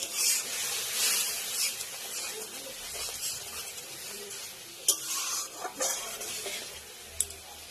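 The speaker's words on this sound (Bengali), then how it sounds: "ভালো করে নাড়িয়ে চালিয়ে নেব" A spoon stirs a simmering mustard fish curry in a pan, soft scraping and a faint hiss of bubbling liquid, punctuated by a few sharp clinks of utensil against the pan.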